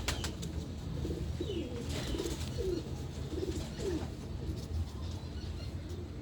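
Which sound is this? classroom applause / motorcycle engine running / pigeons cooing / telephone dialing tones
pigeons cooing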